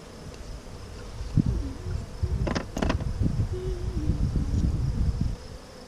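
Honey bees buzz around an open hive during a June inspection, a steady close drone with short louder swells and brief sharp tones over continuous humming.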